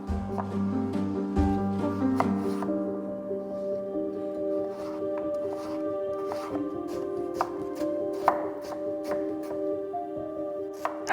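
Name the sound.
knife chopping pumpkin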